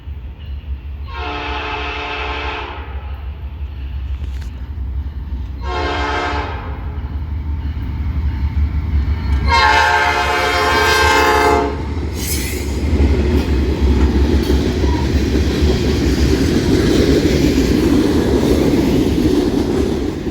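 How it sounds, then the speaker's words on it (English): A freight train led by a newly rebuilt NS locomotive, number 4803, passes close by, sounding several long horn blasts over the steady rumble and rolling of its wheels, with the clatter growing louder as the cars go by. "30T comes south with a brand new locomotive in the front"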